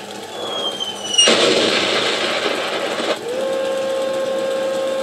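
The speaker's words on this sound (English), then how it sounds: "And it has fully functional barrel recoil." Airsoft tank with a functional recoiling barrel firing once: a sharp burst of noise that holds for about two seconds, then drops to a steady mechanical whine alone, with no voices.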